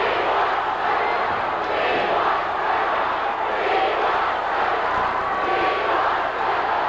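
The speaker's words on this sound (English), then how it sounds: "You can hear these fans." Wrestling arena crowd of fans at a 1983 WWF Championship Wrestling event, a broad continuous roar of cheering and chanting, steady and full without pauses, with no clear voices standing out.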